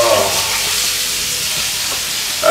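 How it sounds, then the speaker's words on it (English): Steaks sizzle in a hot pan with a continuous, loud, bright hiss that stays steady throughout. "Oh, you hear that sizzling?"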